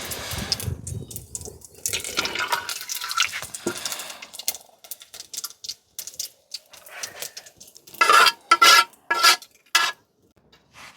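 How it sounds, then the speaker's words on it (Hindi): Vegetables tempered with cumin and ajwain in a pot on a simple kitchen fire in a small hut, giving bursts of sizzling and clattering stirring, loud in short spurts toward the end with quieter scraping between. "अब इसमें सब्जी छौंक देंगे।"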